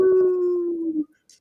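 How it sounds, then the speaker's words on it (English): A single long wolf howl, smooth and sustained, holding one pitch for about a second before cutting off and leaving near silence. "south of you, you hear the howls of wolves."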